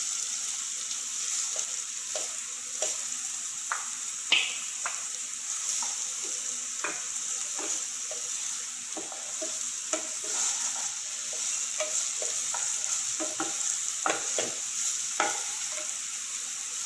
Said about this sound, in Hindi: जब तेल गर्म हो जाए तो सबसे पहले इसमें अनियन डालेंगे।